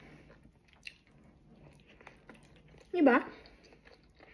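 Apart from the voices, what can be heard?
eating homemade chicken pizza wrap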